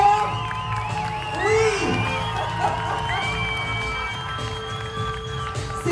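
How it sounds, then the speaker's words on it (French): A crowd cheers and whoops for actor Liam Neeson at the UGC cinema in O'Parinor, Aulnay-sous-Bois, a loud sustained roar with high shouts and whistle-like cries, and a voice briefly speaks over it. "Je veux entendre vos applaudissements encore plus forts."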